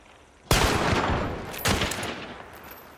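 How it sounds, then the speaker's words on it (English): Gunfire from the video game Hunt: Showdown 1896 sounds as two loud, booming shots about a second apart, each with a long echoing reverberant tail and no talking. "Can I shoot through this?"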